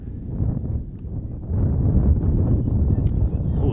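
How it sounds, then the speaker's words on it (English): Strong gust of wind buffets the microphone outdoors at a high school field hockey game, a steady broadband roar that swells partway through and holds loud to the end. "Big gust of wind from up here."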